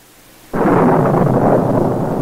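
Thunder from a thunderstorm bursts in suddenly after a quiet moment, then rolls on as a loud, sustained low rumble.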